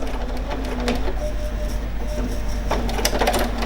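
A Bernina 770QE sewing machine whirs and clicks steadily as it raises its presser foot and trims the thread, with a constant low mechanical hum and a few sharper clicks near the end, no talking.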